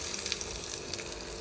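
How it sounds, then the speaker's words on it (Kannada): Tempering of spices sizzling and crackling steadily in hot oil, being added to a fresh chutney of green chillies, coriander leaves and salt, heard close up and alone without talk. "ಅದಕ್ಕೆ ಸ್ವಲ್ಪ ಒಗ್ಗರಣೆ ಹಾಕಿ ಸೊ ಅದನ್ನು ಮಿಕ್ಸ್ ಮಾಡ್ಕೋಬೇಕು"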